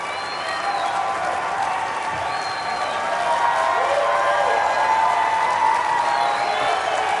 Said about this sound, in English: it's giving a standing ovation to someone who objected to the results